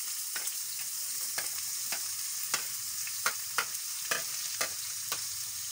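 Chopped onions and chives frying in a little olive oil in a pan, a steady close sizzle broken by sharp irregular clicks and taps of a utensil stirring against the pan.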